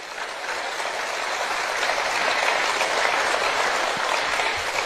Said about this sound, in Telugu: ఆ చప్పట్లు అంటే ఏంటి మీనింగ్?